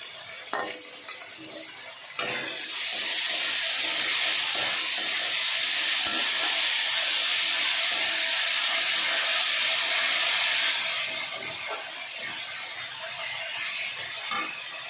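Ginger garlic paste drops into hot oil in a pan and sizzles loudly and steadily for several seconds, a bright frying hiss that fades back to quieter stirring and scraping.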